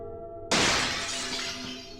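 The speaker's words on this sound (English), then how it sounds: "I heard the sound of shattering glass from my living room" Glass shatters with a sudden loud crash in a living room, followed by a bright, sustained spray of tinkling shards that slowly settles over about a second and a half, with no voices.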